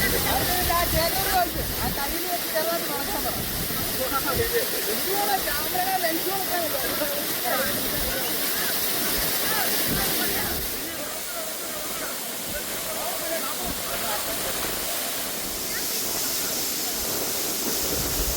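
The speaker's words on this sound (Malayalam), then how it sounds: "ഈ വെള്ളം ശക്തിയായിട്ട് നമ്മുടെ ദേഹത്തോട്ട് വന്ന് പതിക്കുമ്പോൾ ചെറിയ ചെറിയ കല്ലുകൾ എടുത്ത് വരുന്ന ഒരു ഫീലിംഗാണ്" Aruvikuzhy waterfall crashing down, a steady dense roar of falling water filling the whole clip, loud and continuous, with a voice speaking briefly over it.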